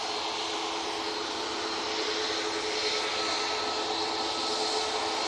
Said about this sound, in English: Another Ryanair Max coming on now.